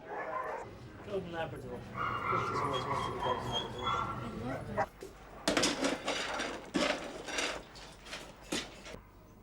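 Dogs at the Battersea rescue home bark, yip and whimper, a mix of close and more distant calls that drift in and out under a voice talking over them.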